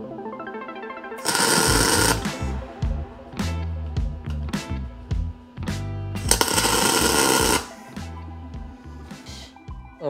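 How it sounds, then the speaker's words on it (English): Tack welding on a custom electronics box for a Honda CB 400 motorcycle comes in two loud bursts of crackling arc noise, each about a second long. Sharp clanks and metal knocks fall in between. "Just a couple of tack welds so we can get a little bit of a better idea how we are going to add the front"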